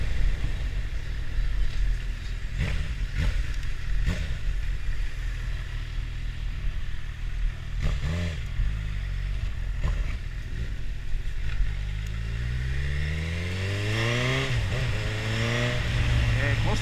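Honda CB1000R motorcycle fitted with a K&N air filter, its engine droning under a voice and then rising in pitch as it accelerates hard near the end.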